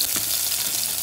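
Peppers going into a pan of frying sofrito with onions in a little oil, giving a continuous close sizzle with a light stir or scrape, and no voices.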